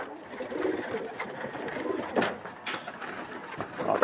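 Racing pigeons coo softly at a club race, amid a rustling, noisy background, with a few sharper sounds breaking through now and then.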